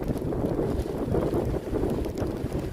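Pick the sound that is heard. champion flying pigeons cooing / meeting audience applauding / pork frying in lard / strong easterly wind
strong easterly wind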